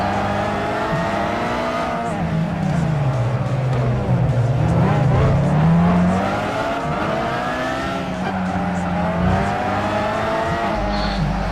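Race cars in Gran Turismo 5 on the Cote D'Azur circuit battle for position, engines revving up and down through gear changes with repeated pitch sweeps, close and loud, with occasional tire squeal.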